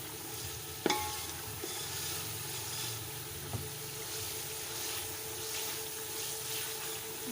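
Finely chopped tomatoes sizzle steadily in a pan with fried ginger-garlic paste, a continuous close hiss broken by a couple of brief utensil clinks as the mixture is stirred.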